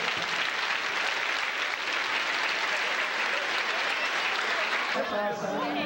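A church congregation claps in a loud, dense, continuous burst of applause that runs without pause, and a voice starts speaking over it just before the end.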